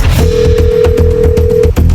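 A telephone ringback tone plays one steady, sustained beep over a loud, rhythmic music bed.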